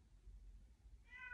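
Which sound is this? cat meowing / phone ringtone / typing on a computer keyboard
cat meowing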